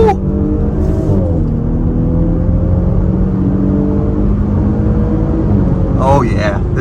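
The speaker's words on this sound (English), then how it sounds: "Oh yeah, this thing can pick up speed well." A 2023 Audi SQ5 accelerates hard on a multi-lane highway, its engine note rising and droning steadily under a voice talking throughout, with short whooshes of passing traffic near the start and end.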